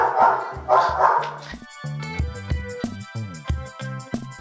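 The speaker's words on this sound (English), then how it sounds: "Do you guys hear my dog?" A dog barks repeatedly in short, sharp bursts, some higher and yelping, close by and fairly loud, after a stretch of quieter rustling.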